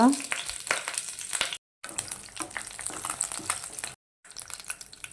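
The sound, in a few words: mustard seeds and curry leaves sizzling in hot oil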